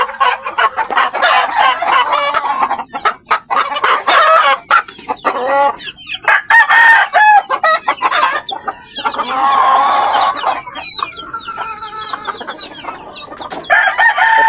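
Hungry, restless chickens in farm pens cluck continuously and a rooster crows, a busy overlapping flock chorus that stays fairly loud and close for the whole stretch.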